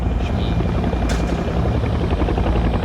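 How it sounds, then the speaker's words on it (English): An aircraft drones overhead as a plane, a loud steady rumbling engine roar that stays constant throughout with no talking. "That's a pretty badass plane."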